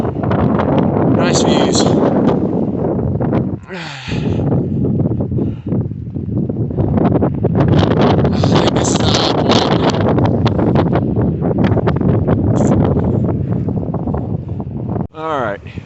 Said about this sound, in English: it is just blowing like crazy. Cold, cold wind.